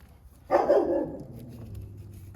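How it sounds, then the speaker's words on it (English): A dog in a garage gives a single short, loud bark that trails off into a brief whimpering tail, heard alone without talk. "Could you stop barking, dog?"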